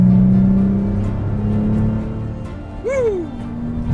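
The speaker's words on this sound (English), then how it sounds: "It's got a nice sound to it because it has a catback exhaust" Porsche Cayenne with a catback exhaust accelerating on a road, a steady engine drone rising in pitch, close and loud from inside or near the car, with a brief voice exclamation near the end.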